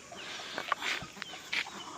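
Soft clucks from a hen come in a few short bursts, with faint peeping from chicks scattered around them in a quiet setting.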